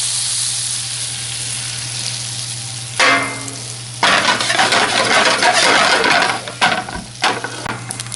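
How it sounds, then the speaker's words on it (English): Spices and mustard seeds sizzle loudly in hot butter in a pan, a steady frying hiss that swells after a few seconds, with scattered crackles and pops from the seeds and a low hum underneath. "So get that sizzling up there."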